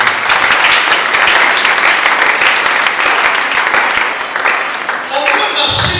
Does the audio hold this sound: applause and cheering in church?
yes